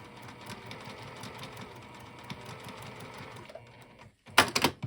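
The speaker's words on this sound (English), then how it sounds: "we're just going to sew diagonally across that top strip." A sewing machine stitches diagonally across a fabric strip for a sling bag, a steady close whirring run that cuts off near the end, followed by a brief louder burst of handling noise.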